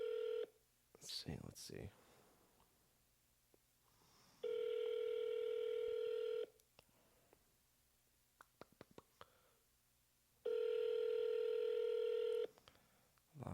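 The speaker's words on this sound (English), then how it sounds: "A lot of just dialing, a lot of ringing noises." Phone dialing and ringing on an outbound cold call to expired real estate listings: bursts of touch-tone dialing beeps and two long steady ring tones, with a brief spoken aside and clicks between them.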